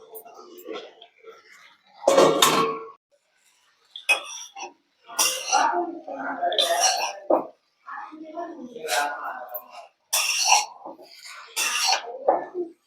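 Egg noodles are tossed and stirred in a pan, with metal spatula scrapes and clanks coming in irregular bursts while someone talks between them.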